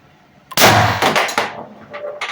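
A Valken M17 airsoft gun set to auto fire lets off a loud, close burst of sharp shots in quick succession, each trailing a short metallic ring.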